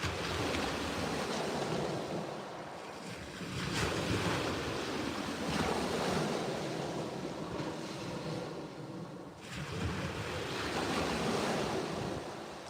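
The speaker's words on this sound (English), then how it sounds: "the waves are getting bigger" Sea waves break and wash in the surf on a windy shore while sea fishing, a loud continuous roar with surging swells every few seconds and wind buffeting the microphone.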